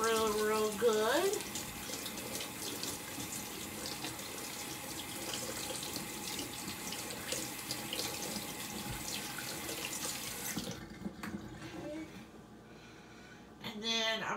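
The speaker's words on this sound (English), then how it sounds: "I'm going to wash my hands real, real good." Hands being washed under a running kitchen faucet, a steady hiss of water spilling into a sink for about ten seconds before cutting off, with a person talking over it.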